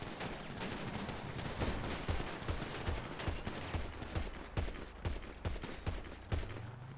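Gunfire in a video game, a rapid, steady volley of sharp shots with a dense rattling rhythm, moderately loud against a continuous noisy background, with no voices.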